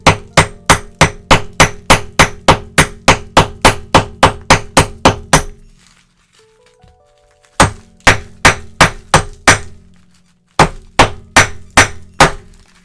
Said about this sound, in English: Let's do it without the chisel.